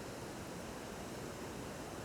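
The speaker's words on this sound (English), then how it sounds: "And water falls on all 3 sides of each one, including the little bit right at the beginning." Water pours over a weir at a lock, falling on three sides, a steady broadband rush that is constant and even throughout, with no voices.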